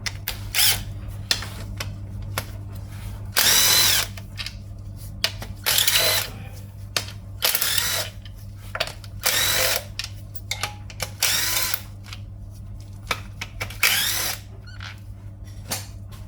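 Power tool spins off the 10 mm rocker cover bolts on a 2011-2014 Hyundai Sonata I45 engine, repeated loud whirring bursts of a second or so separated by pauses and clinks, over a steady low hum.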